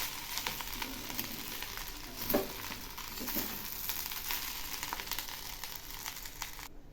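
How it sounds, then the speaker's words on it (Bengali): A spoon stirs fried onions into prawn pulao in a pot, giving a soft steady sizzle broken by a few scraping strokes, quiet and close, with no talk over it. "এখন আমি এর মধ্যে বেরেস্তার অর্ধেকটা দিয়ে দিলাম, একটু নেড়ে দিচ্ছি"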